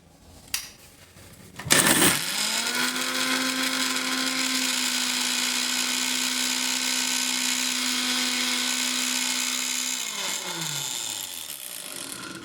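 An electric mixer grinder grinds green chutney without water: a few knocks, then the motor starts with a sharp rise into a loud, steady high-pitched whir that runs for about eight seconds before winding down.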